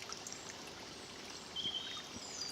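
A small stream flows at Newstead Gill on a countryside walk between Balcombe and Horsham, giving a steady, faint wash of water with distant birdsong behind it.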